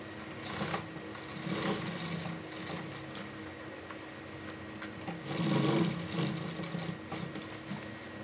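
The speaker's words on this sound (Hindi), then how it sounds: "ये मैंने यहाँ पे सिलाई कर दी है" A sewing machine stitches trouser fabric in a close, continuous whirring run with slight surges in speed, steady throughout with no talk.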